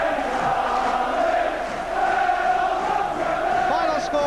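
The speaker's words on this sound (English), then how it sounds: "They're the Liverpool fans. It's the same old story for them, cheering on another Liverpool victory." Liverpool football supporters cheer at Villa Park during a January 1988 league match against Aston Villa, a steady wide crowd roar with sustained chanting tones filling the stadium throughout.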